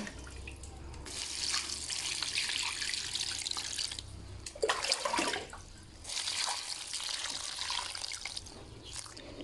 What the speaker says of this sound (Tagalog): Lagyan ko lang ng tubig.